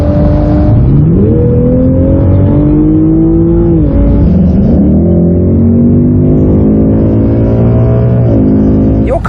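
Ford Mustang with a 5-litre V8 and a Toyota Supra launching in a drag race, a loud sustained engine roar rising through the revs with clear gear shifts near two, four and eight seconds, no talk.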